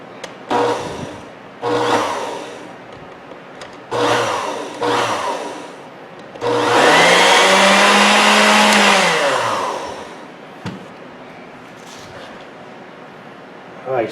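An Osterizer 10-speed blender runs as a test after a drive stud and coupling replacement: several short motor bursts, then a longer whirring run with rising and falling pitch, close and loud before winding down.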